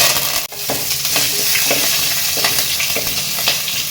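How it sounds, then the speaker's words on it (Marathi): Mustard seeds and curry leaves hit hot oil for Konkani beetroot bhaji, bursting into a loud, close sizzle with a sharp opening crackle and repeated popping and spattering throughout, no speech. "पयलीं राय घालता, मस्टर्ड, आता कढीपत्ता"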